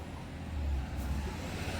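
A truck passes on a road on the way to Chitkul in the winter Spiti Valley, a low rumbling engine roar swelling briefly nearby with no voices.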